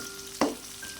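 Tempeh with its skin on frying in hot oil gives one sharp, loud sizzling burst, likely as a piece is stirred or lifted, then settles to a faint low hiss.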